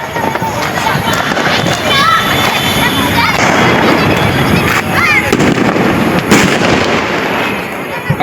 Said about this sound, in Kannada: ಲಕ್ಷ್ಮೀ ಬಾಂಬ್ ಹಚ್ಚವ್ರಿ ಇಲ್ಲಿ.